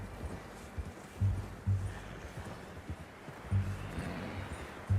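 Horse hooves clip-clop in Red Dead Redemption 2 on PS4, a series of paired low thuds at a walking pace, moderately close over quiet background ambience with no speech.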